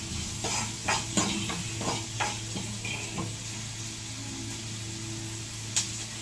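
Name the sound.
sautéing onions with salt in a pan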